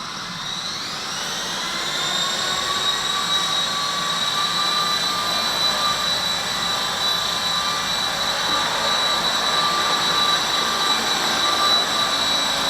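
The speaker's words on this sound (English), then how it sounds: "main motor is obviously very warm because there's no breeze in here, and we're just kind of hovering" A V913 RC helicopter with a new main and tail motor hovers indoors, giving a steady high-pitched motor whine with a rising tone at the start, then a constant close, loud buzz with no speech.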